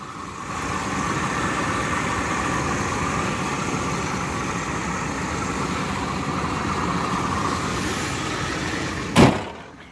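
A car engine idles at a used car dealership in a steady, even hum, followed near the end by a single sharp thump like a door closing.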